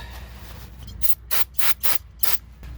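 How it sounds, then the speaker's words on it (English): Brake parts cleaner hisses from an aerosol can onto a Jeep ZJ rear brake caliper in four quick bursts, each about a quarter second, close and loud, following a soft rattle of handling. "Hit it with some brake parts cleaner."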